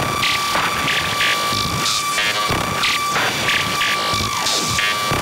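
Modular synthesizer doing frequency modulation with a sine wave: a steady electronic tone with throbbing, pulsing bursts of buzzy, static-like texture repeating throughout.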